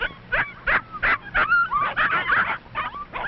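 Seven puppies in a 1952 setting yip and whimper at feeding time, a rapid run of high, short squeals and whines close by, overlapping in quick bursts.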